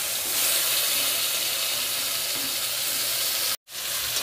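Drumsticks (sahjan) frying in hot oil in a pan: a steady, loud, close sizzle that hisses continuously, with a sudden brief dropout near the end.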